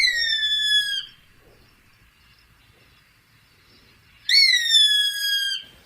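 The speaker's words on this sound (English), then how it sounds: "we're listening to Gray Hawk. Just beautiful, beautiful bird." A Gray Hawk at Santa Margarita Ranch in Texas gives two loud, close, drawn-out whistled calls that slide downward, separated by a few seconds of near silence.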